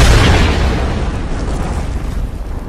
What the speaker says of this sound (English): There are a lot of explosions for two people blending in.